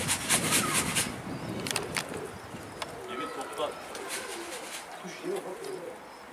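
Pigeons coo and flutter nearby while being fed, soft repeated calls running throughout under ongoing background chatter and outdoor noise, with voices talking over them.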